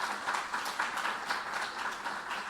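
Steady applause from an audience at an industry conference on plastics and the circular economy, dense continuous clapping that holds an even level for the whole stretch with no talk over it.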